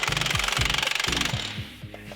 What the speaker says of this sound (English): putting the Milwaukee gun to the test